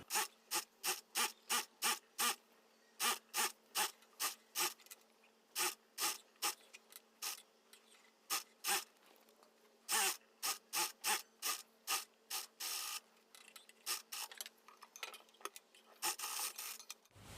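A sewing machine stitches around the neck of a blouse in a quick run of short, evenly spaced bursts, with pauses between them. It sounds close and clear, and no one speaks.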